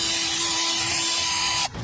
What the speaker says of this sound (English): if you're going to use a drill and a wire brush like I'm doing